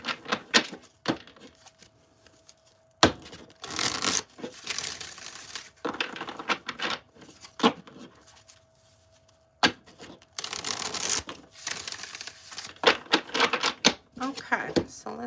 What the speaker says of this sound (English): I'm going to shuffle the cards one more time